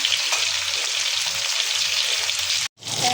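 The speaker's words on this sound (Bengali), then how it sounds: "বেশি ভাজলে ইলিশ মাছের স্বাদ থাকে না তাই হালকা ভেজে এবার আমি উল্টিয়ে নিচ্ছি" Pieces of hilsa fish are frying in hot oil, making a loud, dense, continuous sizzle up close that cuts out for a moment near the end before resuming.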